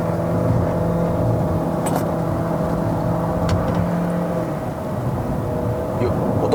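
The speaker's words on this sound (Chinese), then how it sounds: "我都在地板油哦" A 2023 Chery Omoda 5 1.5T turbo car pulls hard at full throttle up a winding mountain road in Malaysia, with a steady, loud engine drone and road roar continuing throughout.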